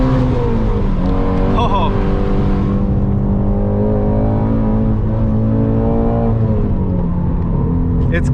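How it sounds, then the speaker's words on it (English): A Ford Mustang GT350 engine revs and rumbles steadily up close to warm the tires on a cool day, holding a strong low drone with swells in pitch, while a brief voice exclaims. "I just wanted to warm up the tires a little bit."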